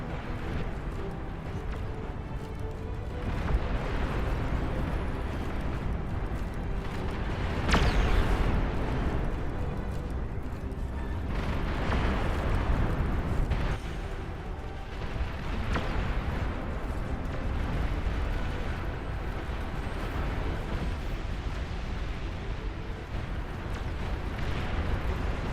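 Massed artillery volleys in the real-time strategy game Beyond All Reason, a dense continuous rumble of overlapping distant blasts with periodic heavier booms swelling and fading throughout.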